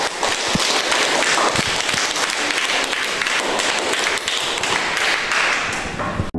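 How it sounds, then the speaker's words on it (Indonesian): Students at the close of a primary-school classroom management lecture applaud, a dense, sustained patter of many hands filling the room for several seconds with sharp individual claps standing out. "Tepuk tangan buat kita semua"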